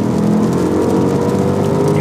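Inside the cabin of a Maserati Quattroporte Trofeo, the engine and exhaust come through as a muffled, steady rumble and blowing hum, fairly loud and unbroken, with no voices.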